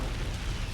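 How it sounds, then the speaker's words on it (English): A sustained, roaring explosion from the video game Raw Danger, with a dense, steady rumble lasting under a second at moderate loudness and no voices. "Best explosion 2."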